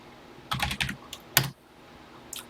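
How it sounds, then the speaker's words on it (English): Keys clicking on a TI-99/4A home computer keyboard, a quick run of taps and then a firmer single press for enter, close and crisp, followed by a faint extra click. "Now type run and press enter again."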